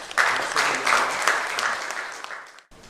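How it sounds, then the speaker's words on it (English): Loud applause from a conference audience at an ASSOCHAM bankers and borrowers event, greeting an executive chairman as he takes the stage; steady clapping for nearly three seconds, then it cuts off abruptly. "Huge round of applause."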